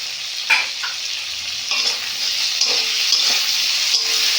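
Chopped tomatoes and onions fry in a pan with a steady sizzle, broken by a few scraping stir strokes of the spoon around 0.5, 1.8 and 3.3 seconds, close up, with no one talking.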